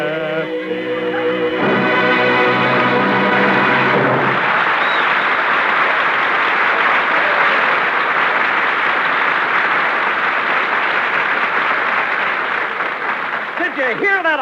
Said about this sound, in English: Did you hear that applause, Jack?